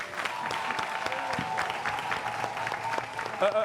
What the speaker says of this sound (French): On applaudit déjà, s'il vous plaît, pour nos deux acteurs